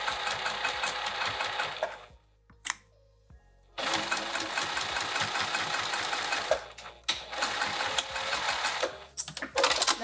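A sewing machine stitches a velveteen boxy pouch in steady, fast runs of close mechanical chatter, pausing briefly twice before starting again with short bursts near the end.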